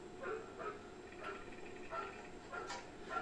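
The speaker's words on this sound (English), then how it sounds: "dog's barking" In The Terminator, a dog barks several times at a distance in short repeated bursts. The barks are faint and sit low in the mix over a soft background hum.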